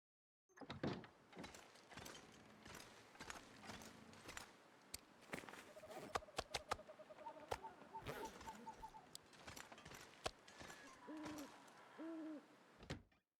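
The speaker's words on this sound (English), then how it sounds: "That owl scared me." An owl hoots in the snowy wilderness of the survival video game The Long Dark, heard faintly among footsteps, door slides and other clattering game sounds.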